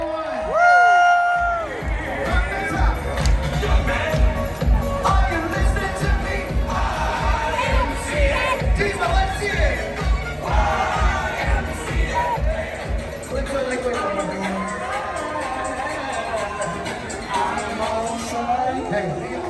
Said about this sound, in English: Carnival Ecstasy, give yourselves a round of applause